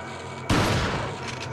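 A shotgun fires once in Resident Evil 4 after a quiet lead-in, a sudden loud close blast whose booming tail rings on for about a second, with no voices.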